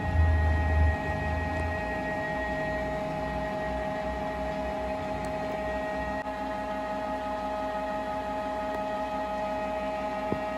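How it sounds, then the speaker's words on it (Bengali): Canon G3000 inkjet printer running an ink repair cleaning cycle, a steady mechanical hum with tonal whine and faint internal whirring, continuous and moderately loud, with a brief low thump at the start. "দেখুন মেশিনে কিন্তু আওয়াজ হচ্ছে, কাজ হচ্ছে, অর্থাৎ মেশিনে কিন্তু কাজ হচ্ছে।"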